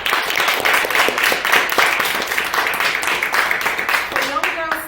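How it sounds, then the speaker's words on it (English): A town hall audience claps a round of applause, crowd clapping sounding under a voice that keeps talking over it, with a tonal voice rising near the end. "A round of applause for her as well"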